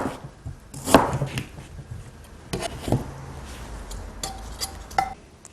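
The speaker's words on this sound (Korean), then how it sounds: "배는요, 이렇게 납작하게 이렇게 썰어 넣으면 됩니다." A knife cuts pear into flat slices for radish water kimchi brine, giving a few scattered, sharp cutting taps and scrapes on a board in a quiet kitchen, with no talking.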